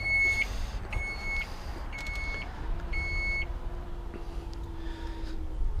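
A 2018 Chrysler Pacifica Hybrid power liftgate closes with a series of four evenly spaced electronic warning beeps, followed by a low steady motor hum as the gate lowers, heard fairly close over faint background rumble.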